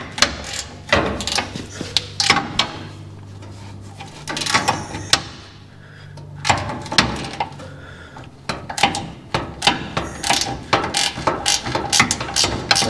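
Ratchet wrench clicks and metal tool clatter come in quick irregular bursts, close and fairly loud, while a bolt is worked loose on a low core support mount during disassembly of a Power Wagon truck.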